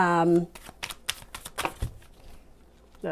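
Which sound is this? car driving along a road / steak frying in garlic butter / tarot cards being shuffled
tarot cards being shuffled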